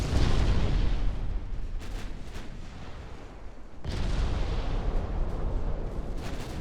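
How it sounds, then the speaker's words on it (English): Warship secondary guns firing in the naval game Ultimate Admiral: Dreadnoughts, heard as a dense, continuous roll of booming gunfire with louder stretches at the start and near the end. "Secondary is now opening up on the destroyer"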